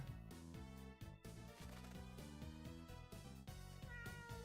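A cat meows in the Castlevania: Portrait of Ruin video game, heard over steady, loud in-game music that fills the whole stretch.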